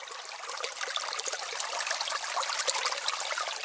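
Small stream flowing at the bottom of a steep valley, a steady, close trickling and babbling of water with fine splashy detail, continuous and alone, used as a radio drama effect.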